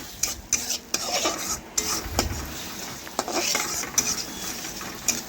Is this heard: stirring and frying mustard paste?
yes